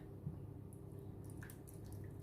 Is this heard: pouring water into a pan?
yes